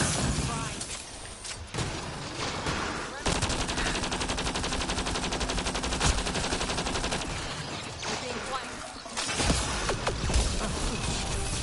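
Sustained automatic gunfire from enemies in the sci-fi shooter Mass Effect: Andromeda, dense rapid bursts running almost continuously for several seconds with brief lulls, loud and close amid game sound effects.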